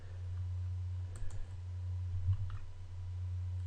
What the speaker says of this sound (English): I'm going to come over here and just left mouse button click